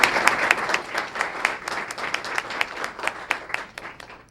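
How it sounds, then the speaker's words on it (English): Audience applause for a student of the month and family at a school recognition event, a steady round of clapping with individual claps standing out, moderately loud and continuous. "Let's give you all a great round of applause."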